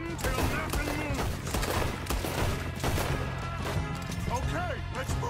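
Rapid gunfire rings out in a Red Dead Redemption II shootout as enemies on a balcony are hit, dense overlapping shots over game music and shouted voices, with brief character talk in the background.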